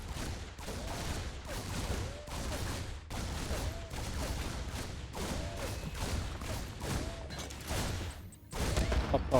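Reapers fire repeatedly on a Zerg hatchery in StarCraft 2, making a steady stream of crackling pistol shots in regular bursts with a faint recurring whoosh, and a louder hit near the end.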